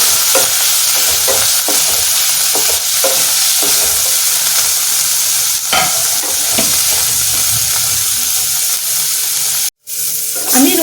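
Chopped tomatoes and green chili fry in a pan for a Bengali fish curry, a loud, continuous sizzle with occasional stirring scrapes, briefly cut off near the end.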